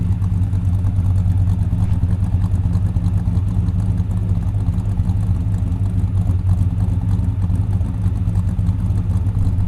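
A rebuilt Buick V8 with a larger RV cam runs as a loud, close, steady engine drone with a rough low rumble and no clear rise in pitch.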